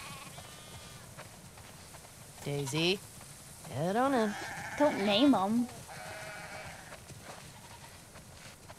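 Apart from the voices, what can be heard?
sheep bleating in video game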